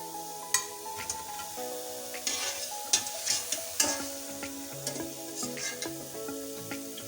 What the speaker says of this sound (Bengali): বড়া ভাজা হয়ে গেছে, এবার উঠিয়ে নেব।